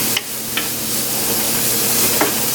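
Vegetables seasoned with salt, black pepper and Jamaican all-purpose seasoning sizzle steadily in a hot pan while being tossed, a dense continuous hiss with a few light knocks of the utensil, close and fairly loud.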